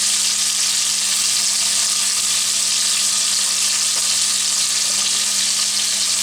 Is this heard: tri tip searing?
yes